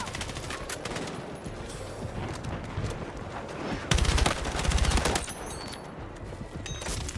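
Dense, overlapping gunfire crackles through a Battlefield 6 battle, with scattered distant shots and louder close bursts of automatic fire around the middle, amid general combat noise.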